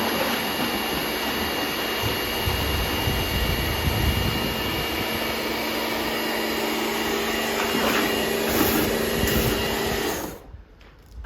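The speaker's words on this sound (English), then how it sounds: "I'll just use the jet wash or power wash to give it some suds" A jet wash roars continuously while spraying a car, with a loud, droning motor whine beneath the hiss of the nozzle, then cuts out abruptly near the end.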